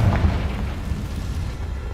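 A Confringo spell explosion goes off in Hogwarts Legacy, a low, loud rumbling boom that fades into a steady roar.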